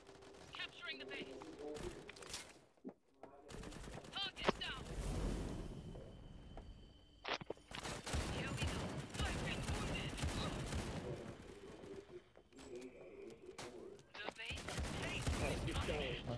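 Gunfire from a weapon in the NetEase shooter Disorder rattles through dense game noise, bursts of shots mixed with explosions and in-game effects, continuous and busy with only short gaps.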